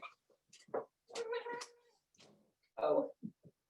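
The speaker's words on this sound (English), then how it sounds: "my cat is, of course, meowing to get out of my office" A house cat meowing repeatedly to be let out of an office, several drawn-out, insistent meows and short calls, close and clear in a quiet room.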